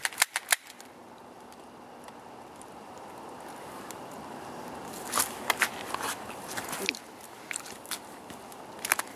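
Sharp gunshots fired in a forest, a few loud cracks at the very start, then a cluster of quick reports and snaps midway, each echoing briefly over steady outdoor background noise.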